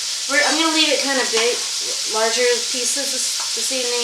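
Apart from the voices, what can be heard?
beef sizzling while cooking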